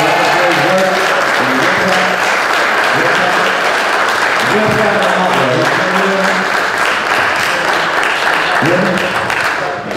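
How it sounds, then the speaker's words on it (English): A crowd at a political rally for a Freedom Party gubernatorial candidate claps loudly and continuously, thick applause with voices cheering and calling out through it. "Give my brother Omawale a big hand clap."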